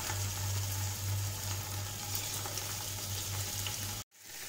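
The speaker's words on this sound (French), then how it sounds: "vous faites seulement revenir les bouts de basse-côte" Pieces of beef chuck searing in olive oil in a saucepan give a steady, close, dense sizzle and crackle with a low hum underneath, cutting off abruptly near the end before resuming softly.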